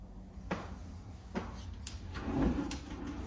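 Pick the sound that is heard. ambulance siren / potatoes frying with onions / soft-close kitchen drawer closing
soft-close kitchen drawer closing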